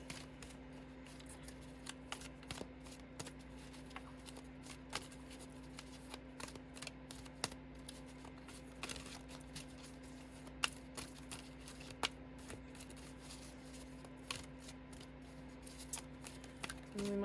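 Riffle shuffling and cutting of a tarot deck in quiet surroundings, a rapid run of soft card flicks and snaps with occasional louder taps, close and faint.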